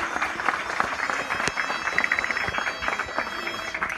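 An audience applauds young girls who performed the Danza de los Negritos on 25 December, a continuous moderately loud patter of clapping with a few sharper claps standing out.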